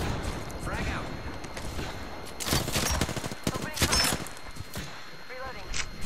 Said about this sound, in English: Oh, they're shooting towards us.